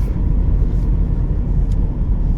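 Loud, steady road roar inside a moving Mazda MX-5 Miata RF with the hardtop roof up, a constant low rumble of tires and wind with no talking.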